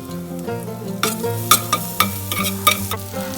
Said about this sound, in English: Let it saute for a few seconds. Now it's time to add the green chillies.